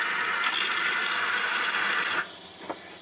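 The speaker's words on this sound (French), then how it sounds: "Le robinet de la douchette que j'ai rajouté moi." Water gushing from an added hand-shower faucet, a loud steady hissing rush that cuts off abruptly after about two seconds, leaving a quiet drip-like tail and a brief small knock.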